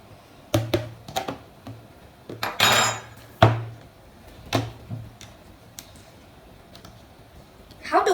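Spoon working against a container while making juice, a series of sharp separate clinks and taps with one longer scrape near the middle, close and irregularly spaced, with brief quiet moments between them.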